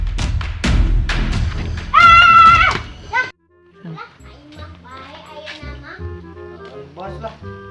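A horse whinnies loudly during riding, a rising, wavering neigh lasting about a second near the start, followed by thumps and quieter animal and human vocal sounds in a Sundanese rural film scene.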